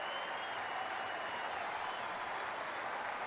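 A crowd at a Rockies versus Dodgers baseball game at the stadium cheers and applauds in a steady, broad roar that stays even for the whole stretch, distant and washed together without distinct voices.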